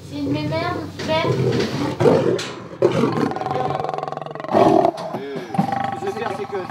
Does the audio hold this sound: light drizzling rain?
no